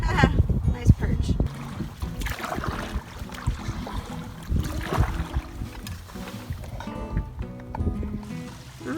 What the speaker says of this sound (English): Well, just paddling along,